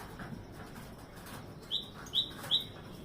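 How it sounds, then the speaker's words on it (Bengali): Pigeons gathering to feed on a rooftop, with three short bird calls or wing sounds close together near the end over a quiet outdoor background. "এইভাবে প্রতিদিন আমার ছাদে খেতে আসে পায়রাগুলো"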